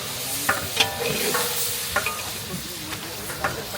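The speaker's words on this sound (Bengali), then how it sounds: "এইভাবে আস্তে করে ঘোরাই আমরা মশলা থেকে লাল করে নিয়ে ছাড়লাম।" Spices sizzling in a pan for a meat curry at a village wedding, stirred slowly with a utensil that scrapes and knocks against the pan at irregular intervals over a steady frying hiss.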